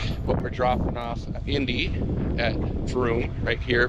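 Gusty wind buffeting an outdoor microphone on a windy morning at an RV stop, a low rumble running steadily under continuous close talking throughout.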